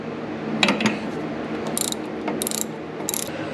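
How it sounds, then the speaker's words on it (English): Ratchet wrench working on a front shock bolt of a 1980 Camaro, heard as a few quick bursts of metallic pawl clicking close up, separated by short pauses, with no talking. "we're going to break this thing loose and then hopefully be able to ratchet it off."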